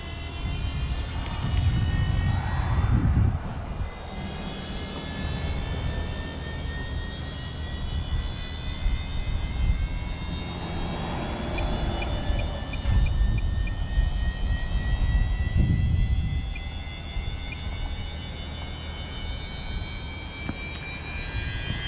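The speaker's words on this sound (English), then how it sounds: "So we're going to spin up this gyro." A gyro in a Promoto MX RC motorcycle spins up, giving a steady, close, high-pitched whine that climbs gradually in pitch and holds over a low background rumble.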